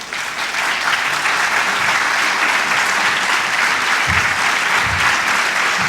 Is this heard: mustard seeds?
no